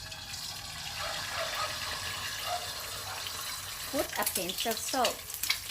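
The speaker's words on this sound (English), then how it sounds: "Now, let's fry the egg. This is sunny side up egg." A sunny-side-up egg fries in a hot pan with a soft, steady sizzle. A voice speaks briefly over it near the end.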